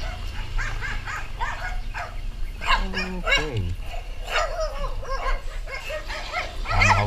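A loose dog barks and yips in several sharp bursts close by during a delivery of a bale of used clothing, over steady outdoor background noise, with a brief spoken word.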